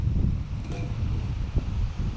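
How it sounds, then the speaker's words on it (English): Wind buffets a Canon M50 camera's built-in microphone outdoors, a low rumbling gusty roar that stays loud and uneven for a couple of seconds with a faint thump near the end. "now we got a little test with the wind"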